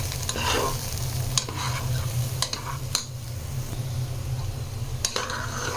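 Bhuna khichuri fries in a pan with a steady, close sizzle, a low hum running underneath, and a few sharp stirring scrapes and clinks breaking through.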